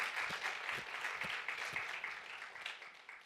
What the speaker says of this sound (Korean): 하나님께 영광도 박수로 돌리시겠습니다